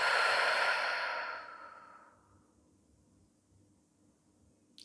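A long, soft breath pushed out through the mouth during a back-stretching exercise, a single close, airy exhale that fades out over about two seconds into quiet.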